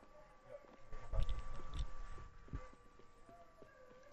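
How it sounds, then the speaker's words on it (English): An enemy player's footsteps in Apex Legends thud in a quick, uneven run, moderately near and fairly loud over a low steady game hum. "I can hear his footsteps."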